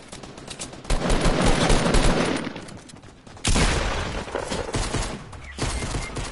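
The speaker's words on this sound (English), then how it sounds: "Where are they shooting from?" Bursts of rapid video game gunfire, a long volley of shots followed by a second heavy burst and a quieter trailing stretch, loud and close.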